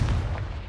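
A Confringo blasting spell goes off in Hogwarts Legacy as one short, loud, heavy explosion with a deep booming body that fades quickly.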